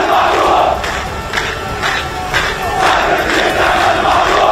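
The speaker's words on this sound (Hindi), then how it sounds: "लोगों ने अस्पताल पर हुए हवाई हमले की निंदा की और इसराइल के विरोध में जमकर नारेबाजी की।" An angry protest crowd in Ramallah chanting slogans against Israel, a loud, dense roar of many voices rising and falling in continuous waves.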